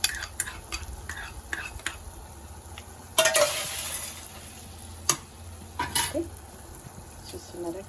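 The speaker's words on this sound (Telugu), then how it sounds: "క్యారెట్ ఉడుకుతుంది అన్నట్టు." Carrot halwa simmers in a pan while a spoon stirs it, giving soft scraping strokes and a light sizzle, with occasional sharper clinks of utensil against metal, close and moderately quiet.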